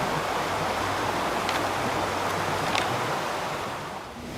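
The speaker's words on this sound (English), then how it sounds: "hear the shush of the river softening the air around it" The Hoosic River in Williamstown rushes along in a steady, broadband shush, an even wash of flowing water heard close by with no voices over it.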